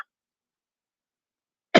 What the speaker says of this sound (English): It's a dry cough, too.